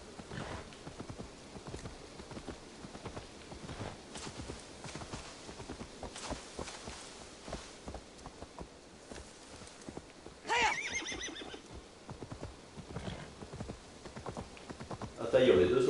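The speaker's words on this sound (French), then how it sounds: "Ah, ça y est, on est deux sur le cheval il se traîne." Horse hooves clip-clop steadily with occasional whinnies as two riders share one horse in the Assassin's Creed Valhalla video game, with game music and effects around the hoofbeats and someone talking over them.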